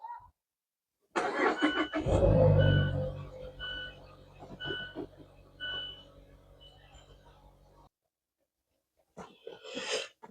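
A third-generation Mazda 3 with a naturally aspirated engine and an upgraded exhaust starts up with a loud burst, then settles into a rough, throaty idle with a few revving pulses before cutting off.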